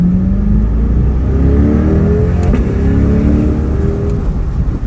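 A C8 Corvette Stingray engine revs and accelerates hard on a quarter-mile run, a loud, steady rising roar with rumbling low tones and no voices.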